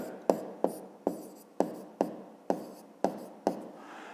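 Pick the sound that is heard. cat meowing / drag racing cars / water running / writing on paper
writing on paper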